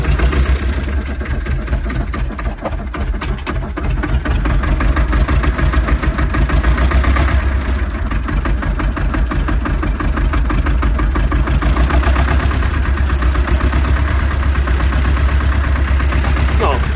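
Ursus C-330 tractor engine idling on a frosty day, a loud, close, steady chugging throb with a regular pulse that continues throughout, with occasional faint voices in the background.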